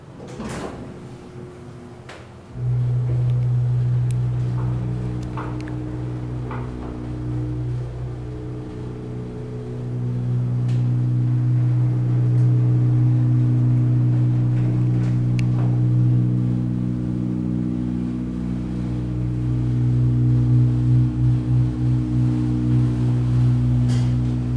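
Elevator motor humming steadily after starting, a loud low drone with a few soft clicks and knocks, running continuously inside a former Burlington elevator at Bloomingdale's, Walt Whitman Shops.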